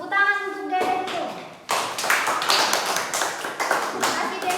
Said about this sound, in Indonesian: Tepuk tangan untuk Dede dulu.